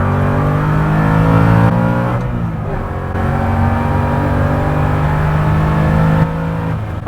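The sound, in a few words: Revology 1968 Mustang Fastback Cobra Jet accelerating on track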